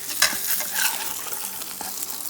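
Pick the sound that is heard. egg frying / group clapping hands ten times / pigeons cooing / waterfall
egg frying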